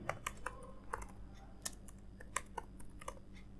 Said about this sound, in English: you need to type the following that I am typing.